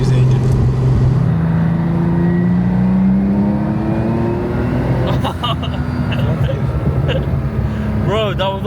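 A 1000 BHP air-cooled Porsche 993 engine revs from about 3000 to 4000 RPM, a loud, continuous rising tone that climbs steadily, with a chirp near the end and mechanical noise throughout.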